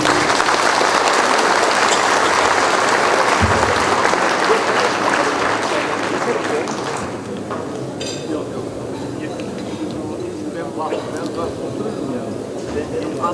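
Audience at a large gathering applauds strongly and steadily for several seconds, then the clapping thins and fades while a voice speaks over the dwindling applause.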